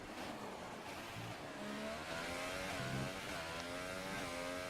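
A Williams Formula 1 car screams down the back straight at the US track in Texas with DRS open, its engine a sustained high whine climbing in pitch through the gears, steady and fairly distant.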